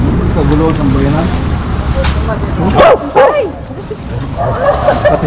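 A dog barks and yips a few times amid a noisy, crowded background with people talking, at a dumpster site piled with discarded trash.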